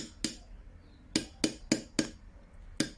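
A hollow-tipped pin punch taps a pin into the sight of a Colt .22 conversion unit, giving six sharp metallic taps, one isolated and then a quick run of four followed by a final tap, close and clear with no talk.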